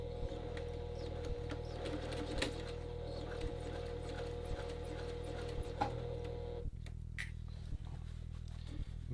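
A sewing machine stitches a seam on a men's dress shirt, a quiet steady mechanical whir with evenly spaced ticking from the needle, close by, before the motor cuts out near the end.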